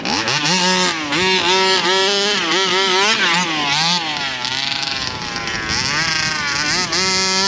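A Rovan Baja 5B petrol RC car engine runs close by during a steering test, buzzing loudly and steadily with a high whine whose pitch climbs and dips as the throttle is blipped, then settles into a rougher rev.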